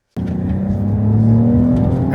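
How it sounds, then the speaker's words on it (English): A 2024 Cadillac XT5 Sport's 3-liter V6 kicks in abruptly and revs hard under acceleration, a loud, close engine drone climbing steadily in pitch for the full length with no voices. "There's your V6 well done. Working hard. I love that sound."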